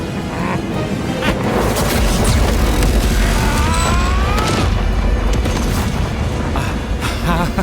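An animated death ray fires in a Gru versus Megamind battle cartoon. It is a loud, sustained roaring blast with booming rumbles, crashing bursts and whooshing streaks.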